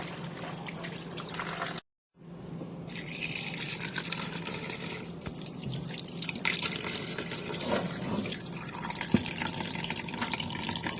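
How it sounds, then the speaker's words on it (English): Water from a kitchen tap runs into a pot of menudo, a loud continuous gushing splash that cuts off for a moment near the start and then resumes, steady and close, with occasional drips. "go ahead and fill it just above the menudo, not too much because we're going to throw this water away"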